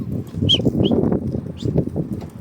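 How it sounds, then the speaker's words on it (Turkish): Homing pigeons taking off nearby, a burst of rapid wing flaps with a couple of short high squeaks over it. "Postalarımız da uçuyor."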